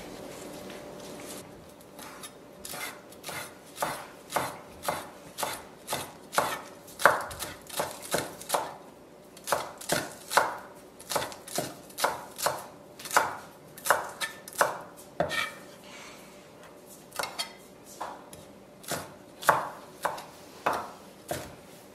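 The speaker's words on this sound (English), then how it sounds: "Lastly, we're going to chop up some coriander." A knife chopping coriander on a board, a long run of quick, evenly spaced thuds and taps in irregular bursts, close and clear with no talking.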